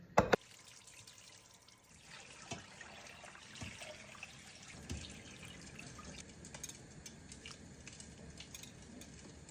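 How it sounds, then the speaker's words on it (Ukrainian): Cold tap water runs steadily into a sink, with clinks and small splashes as fruit pits are rinsed beneath the stream; no one speaks. "Кісточки ми добряче промиваємо. Я це буду робити під холодною водою."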